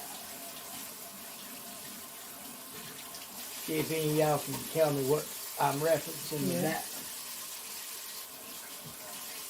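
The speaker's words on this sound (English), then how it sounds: "we're going to pour this hot water down into the aluminum pan" Water streams and splashes steadily into a pan in the background while a person talks over it for a few seconds.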